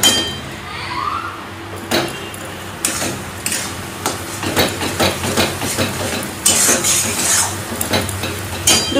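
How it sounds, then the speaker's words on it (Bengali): Chicken with masala sautéed in a pan, with loud repeated scraping and clinking of a spoon stirring against the metal over a steady sizzle, close up, with occasional talk. "মশলা দিয়ে দিয়েছি, এই মশলাটাকে ঠিক মতো কষাবো।"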